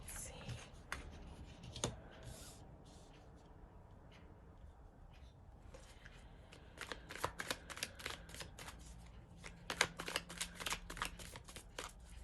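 Tarot cards are shuffled for a reading, a quiet run of papery riffling and soft flicks with bursts of crisp snapping clicks, close and faint throughout.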